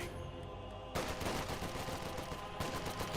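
A Fusilier firing from inside a garrisoned building in Company of Heroes 2, with steady bursts of small-arms gunfire and a sudden louder volley partway through, set against battle noise with no talking.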